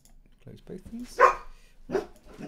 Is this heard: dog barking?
yes